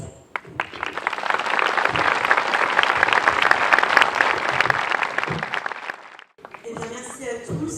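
Audience applause at a fashion show, a dense, loud wash of clapping that holds steady for about six seconds, then breaks off into a brief quiet before a voice begins speaking.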